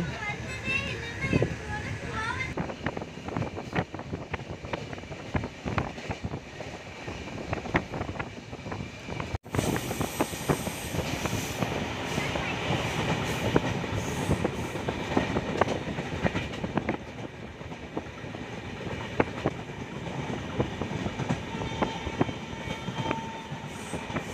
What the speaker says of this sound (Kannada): ಸೊ ಸ್ಟಾರ್ಟ್ ಆಯಿತು ಮತ್ತೆ ನಮ್ಮ ಟ್ರೈನ್ ಇವಾಗ.